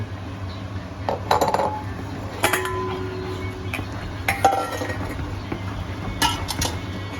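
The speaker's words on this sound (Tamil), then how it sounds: "இப்போது கஜு பிளம்ஸு போடுகிறோம். நன்றாக கிளறவும்." A spoon stirs kesari with sugar, cashews and raisins in a metal pan, producing scattered scraping clinks and knocks against the pan over a low steady hum. No voices are present.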